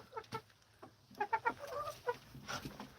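Hens clucking close by in a henhouse in short, irregular bursts, several birds overlapping at a fairly soft level.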